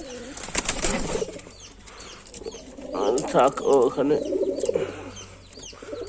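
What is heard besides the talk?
pigeons cooing, Lotan pigeon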